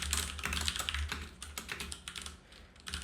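Continuous keyboard typing on a computer, dense clicks of keys at close range with steady rhythm, no voices, with low background hum underneath.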